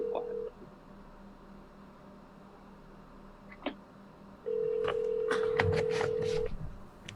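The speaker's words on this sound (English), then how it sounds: "Can you guys hear it ringing?" A telephone rings twice in a room, a short tone at the start and a longer steady ring after a pause, with sharp knocks and handling noises during the second ring.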